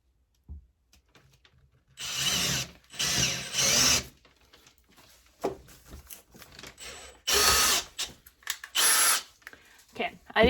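A power drill whirs in several short bursts with pauses between, with scraping and handling noises in the gaps.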